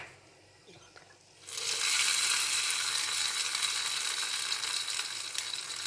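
Mustard seeds, urad dal, cumin, curry leaves and dried chillies hit hot oil for tempering, bursting into a loud, sustained crackling sizzle after a quiet start.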